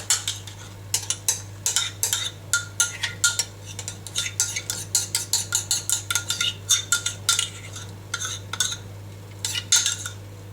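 A spoon scrapes and taps against a bowl while pudding sauce is ladled onto puff pastry, giving a quick series of sharp metallic clinks and scrapes over a low steady hum.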